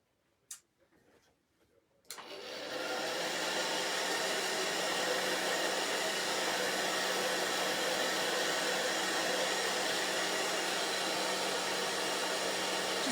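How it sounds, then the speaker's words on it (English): A hair dryer switches on after a few quiet clicks and blows with a steady, even whoosh while drying chalk paint. "I'm going to hit it with the dryer"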